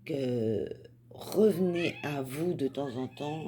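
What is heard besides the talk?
cat meowing, wanting to go outside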